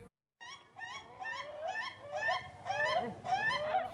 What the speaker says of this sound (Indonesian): Ratusan ekor ayam ketawa atau ayam gagah berlomba memperdengarkan suara indahnya